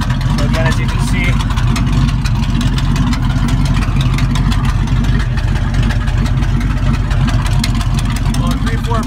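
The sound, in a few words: 1979 Ford F-100 302 V8 engine idling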